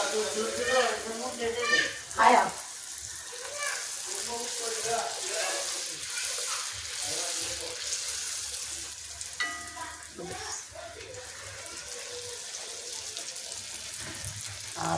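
Food fries in a covered pan in a home kitchen, a continuous hiss and crackle with clattering and stirring, while a person talks over it throughout.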